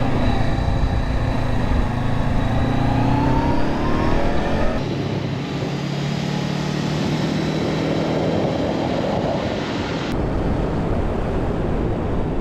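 A Honda CB500X motorcycle engine sounds loud and close on a test ride along a winding local road, with steady engine drone, rising and falling revs and a gear change partway through, all under heavy wind rush.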